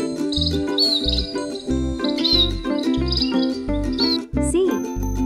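Repeated high bird chirps over a bouncy, tuneful children's alphabet song, the tweets recurring in quick phrases above the steady music.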